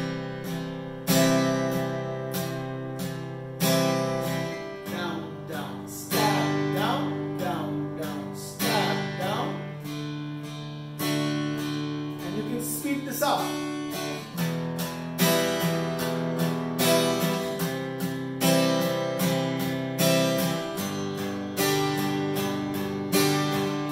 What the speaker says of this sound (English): if I'm doing a song with a few chords and doing the down, down, stab, down pattern, it's going to sound like this.